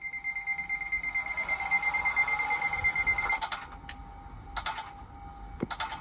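A steady high electronic AWS warning tone from a Hornby Class 755 model train sounds continuously, then cuts off and gives way to short bursts of clicking and hissing.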